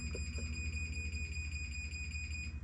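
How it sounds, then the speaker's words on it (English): A continuous high-pitched electronic beeping tone from a Chamberlain garage door opener warning that the door is closing, steady and fairly faint. "That thing beeps like that, like a warning to let you know it's coming down"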